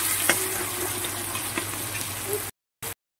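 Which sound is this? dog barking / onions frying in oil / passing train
onions frying in oil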